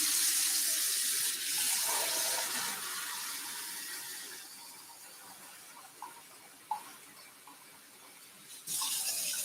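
Water runs steadily from a tap into a cast iron pot, a close, loud hissing stream that slowly softens as the pot fills, with a few small clinks near the end.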